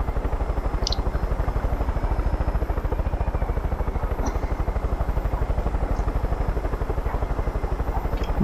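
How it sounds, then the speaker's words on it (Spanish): A helicopter in Far Cry 5 keeps up a steady, loud rotor chop with a fast, even beat that runs the whole time, with no voices over it. "Venga, helicóptero, tú puedes."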